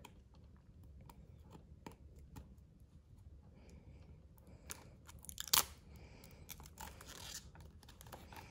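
Crinkly plastic film being peeled off a new Astro A20 wireless gaming headset, a run of soft close crackles and rustles with one sharper crunch partway through, no voices.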